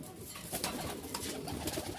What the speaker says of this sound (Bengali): দেখতেই পাচ্ছেন একজোড়া গিরিবাজ, হাই ফ্লাইং গিরিবাজ